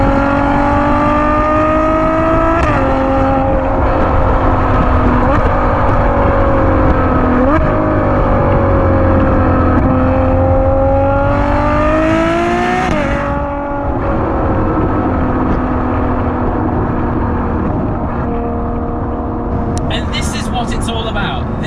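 A Ferrari GTC4 Lusso V12 engine revs repeatedly, its pitch climbing and falling in long loud sweeps that sound close and continuous, with a brief dip in the middle before it picks up again.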